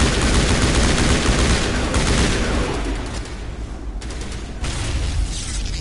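Dense, continuous gunfire in the video game Mass Effect, rapid bursts of shots close and loud throughout, easing slightly midway before picking up again.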